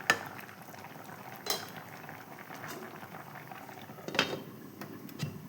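Taro (chembu) simmering in a pot, a soft bubbling boil under a few clinks of a spoon against the pot and a lid being set down, quiet and close, with no talking.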